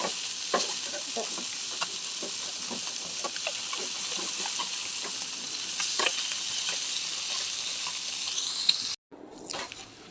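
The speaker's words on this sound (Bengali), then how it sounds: "এখানে সবজিগুলো একটু ভেজে নিচ্ছি হলুদ এবং লবণ মরিচ মিশিয়ে" Vegetables seasoned with turmeric, salt and chili fry in a black wok, a steady close sizzle with occasional pops and stirring scrapes. A brief dropout near the end is followed by softer frying.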